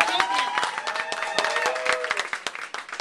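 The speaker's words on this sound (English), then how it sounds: "We want to give a clap to Jackie." A gathering celebrates a student newspaper's first anniversary at a university with a burst of clapping, individual sharp claps standing out over a thinner room applause that thins and becomes more sparse toward the end.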